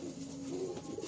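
A Rajshahi giribaj pigeon coos once, low and close, a short rolling call over a faint background hum.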